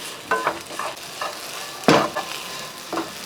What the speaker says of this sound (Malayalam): പാൻ ചൂടായതിന് ശേഷം നമ്മൾ ഈ കഴുകി വൃത്തിയാക്കി വെച്ചിരിക്കുന്ന ഉണക്കച്ചെമ്മീൻ ഈ പാൻ്റെ അകത്തോട്ട് ഇട്ട് കൊടുക്കുക